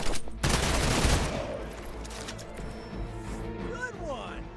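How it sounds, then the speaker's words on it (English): A gun in the video game Midnight Suns fires at a soldier in a short loud burst near the start, followed by ringing game sound. A voice talks over it. "And that'll let us gun down the soldier."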